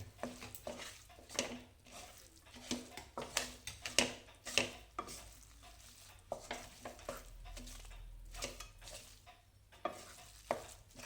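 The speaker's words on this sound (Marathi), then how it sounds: "हे मिश्रण सगळं एकसारखं मिश्रण मिसळून घेऊया" A spoon stirs cooked coconut-milk rice through a mixture in a pan, making repeated soft scraping and clinking strokes over a faint sizzle, steady and close.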